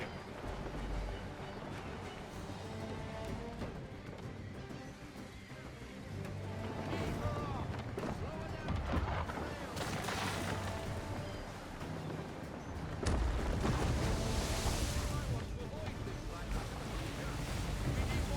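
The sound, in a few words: sailing ship at sea, from video game Assassin's Creed 3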